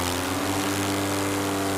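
Small motor on a powered aircraft drones steadily in flight, a loud, continuous engine hum with strong low harmonics and airy wind noise, close and unbroken with no voices.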